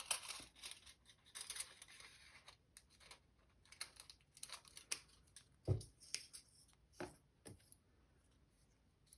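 Scissors cut material for a homemade utensil holder, giving quiet, irregular snips and crisp clicks close up. Handling rustles come between the snips, and no one speaks.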